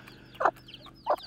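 Farm chickens at feeding time, two short distinct clucks separated by a brief pause, close by over a quiet background hum.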